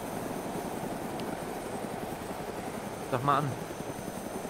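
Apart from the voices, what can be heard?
helicopter flying, from the video game DayZ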